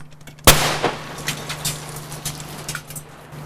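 A cannon or gunshot blast from a war documentary about the Koshare battle, one sharp loud report near the start followed by a decaying rumble, a faint second crack and scattered distant pops over a steady low hum.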